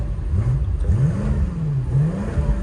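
A 2019 BMW M5 engine running, a low steady idle with gentle rises and falls in pitch as it is lightly revved, close and continuous.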